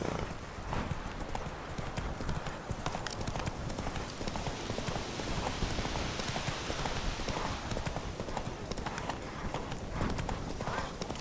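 Roach, a horse in The Witcher 3, gallops with rapid, continuous hoofbeats close by, a dense drumming rhythm over a constant rushing background, a faint snort here and there.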